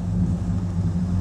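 A 1966 Pontiac Catalina 2+2 convertible engine running with a steady low rumbling idle, close and fairly loud, no voices.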